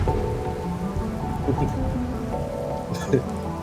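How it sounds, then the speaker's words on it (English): Rain in the video game The Darkside Detective, a steady hiss of falling rain over a low tonal music bed, continuous and fairly loud throughout, with a brief rumble near the end. "The hills are alive with the sound of rain."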